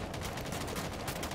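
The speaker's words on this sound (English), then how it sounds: "Why are you shooting through there?" Rapid bursts of gunfire from the shooter game Rainbow Six Siege, loud and dense, shots running together almost without pause.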